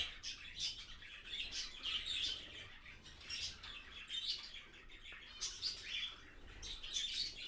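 Many small birds chirp and tweet continuously in an aviary, a busy overlapping chorus of high calls close by with no talking.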